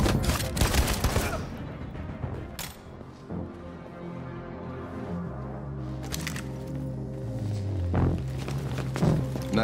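A rapid burst of gunshots from the video game Detroit: Become Human, sharp cracks crowding the opening seconds, then a droning musical score with a few more scattered bangs later on.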